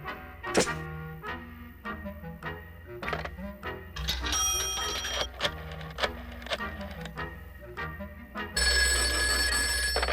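A telephone rings in a cartoon crime scene. A bell-like ringing tone repeats among thumps and music-like background sounds, loud and near, with a brighter, denser burst toward the end.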